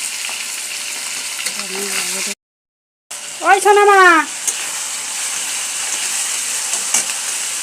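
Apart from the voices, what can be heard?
small katla fish frying in a pan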